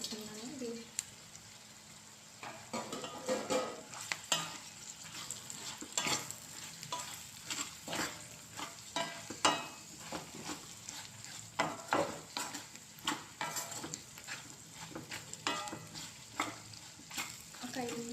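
Bitter gourd pieces fry in oil with onions in a pan, giving a continuous close sizzle broken by frequent scraping and stirring knocks from a spatula.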